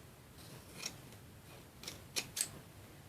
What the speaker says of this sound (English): Just cut off the stitching.